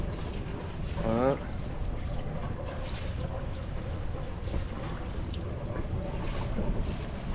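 Wind buffets the microphone aboard a sailboat during a casual race between pleasure sailors, a steady rumbling rush with water noise throughout and a brief tonal squeak near the start.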